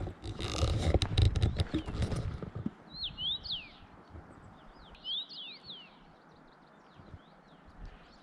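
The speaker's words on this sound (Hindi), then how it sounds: "दूर दूर से सिर्फ मुझे कुछ परिंदों की आवाज़ें आ रही हैं" Faint, quick bird chirps come in small clusters from a distance in a quiet mountain setting on the trek to Katora Lake, after a brief rustling noise at the start.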